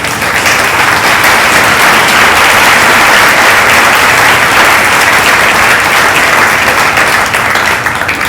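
A banquet audience at a pregnancy care center gives a guest, a secretary of state, a loud, sustained round of applause, many hands clapping together without letup from start to finish.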